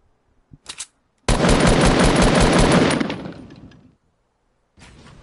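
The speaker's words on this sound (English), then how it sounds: "Just shoot the wall once and it'll break." Gunfire rattles off in a rapid automatic burst at a built wall in Fortnite, loud and close for about two seconds before tailing off, with a few small clicks before it and another shot at the end.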